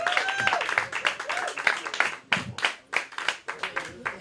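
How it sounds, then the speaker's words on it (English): A coffeehouse open mic audience gives a round of applause, with sharp, scattered claps close by and voices and cheers mixed in before the clapping thins out. "Please clap it up for Shayna Manuel."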